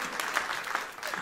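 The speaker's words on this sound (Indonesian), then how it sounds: "Beri tepuk tangan yang paling meriah bagi Allahmu yang luar biasa" A church congregation claps together in loud, dense applause that holds steady for the whole moment, with no voices rising above it.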